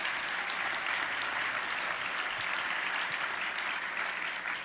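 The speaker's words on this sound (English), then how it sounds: "let's give a big round of applause for Foster Friess" Steady, dense applause from a large crowd at the CPAC 2011 political conference, continuous and loud throughout with no pauses.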